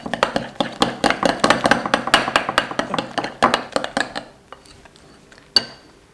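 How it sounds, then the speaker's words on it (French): Cracker dough is stirred in a bowl after water is added, giving quick, rhythmic clinks and taps of a utensil against the bowl for about four seconds, then a few scattered knocks. "On mélange bien."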